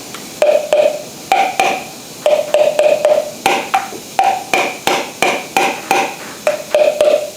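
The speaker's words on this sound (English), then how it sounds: "Brass hammer right on top of the rockers," Quick metallic taps from a brass hammer striking the rockers and valves of an MGA engine, in uneven clusters of two to four ringing hits, close and sharp.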